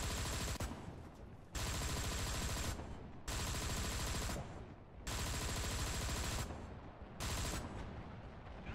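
Long bursts of tank machine gun fire in War Thunder from a Panther D tank, loud and rapid, coming in four sustained strings separated by short pauses, with no talk over it.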